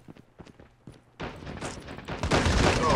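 Gunfire in the mobile shooter Call of Duty Mobile, a few faint clicks and footsteps giving way to a loud, dense burst of shots and rumbling booms that builds through the end, with no speech.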